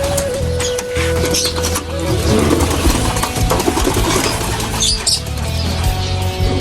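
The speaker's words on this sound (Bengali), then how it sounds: "সব কবুতর এসে গেছে।" Pigeons fly in and flap their wings near a coop area with many chickens, a busy stretch of rustling flutter and soft bird calls running continuously at close range.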